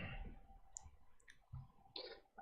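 Keyboard typing during a fantasy football mock draft: a few sharp clicks and taps scattered over a low room hum, moderately close, with no voices.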